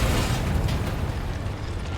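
The Bombarda explosion spell in Hogwarts Legacy goes off as a loud, dense blast, with a roaring burst of rumble and crackle that fills the moment and stays heavy throughout.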